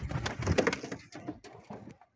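Pigeons in a loft give a few soft, throaty coos close by, rolling low calls that repeat in short bursts over about two seconds.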